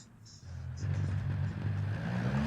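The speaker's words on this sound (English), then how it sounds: "spin the tyres a bit." 4x4 car built in Automation and driven in BeamNG, engine revving up as the tyres spin, a droning mid-low engine tone rising and holding loud after a quieter start, with brief speech early on.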